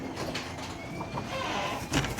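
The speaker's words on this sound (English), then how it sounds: "Front birds." Birds in a backyard coop coo and call softly in the morning, brief warbling notes rising over a low steady background with a slightly louder call near the end.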